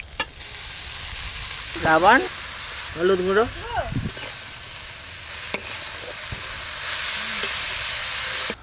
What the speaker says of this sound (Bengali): আগে শাক ভাজাটা করে নিই